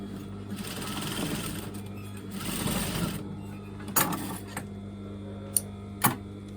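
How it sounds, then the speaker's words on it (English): A sewing machine stitches down the edge of a circle skirt, a close buzzing run in two bursts over the first few seconds, followed by scattered sharp clicks and fabric handling. "I'm just going to stitch this bit down"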